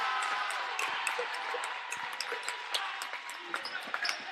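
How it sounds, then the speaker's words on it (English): High school basketball crowd in a gym making noise, a steady broad roar of voices with scattered shouts and sharp ball bounces or sneaker squeaks on top, fairly loud and continuous throughout. "The FCA crowd that's here starting to make some noise."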